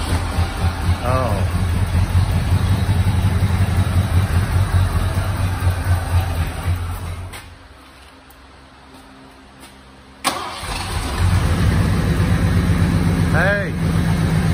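Engine of a 1986 Ford F-150 truck that had sat unused for 15 years, loud and steady with a rough low rumble, dropping away to near quiet in the middle before abruptly firing back up and running again.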